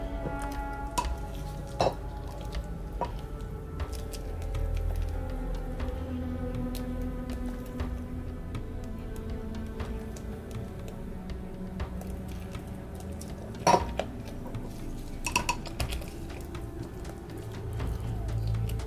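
Lye mixture for a clear soap base stirred in a pot, with a soft steady scraping and swirling, plus scattered light clinks and ticks of the utensil against the pot.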